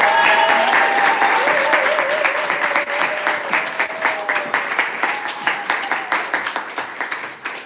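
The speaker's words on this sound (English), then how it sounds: "Please join me in applauding so loudly for Teresa Dzieglewicz." A crowd at a poetry reading bursts into loud, sustained applause that thins into scattered, rhythmic claps toward the end, with faint voices underneath.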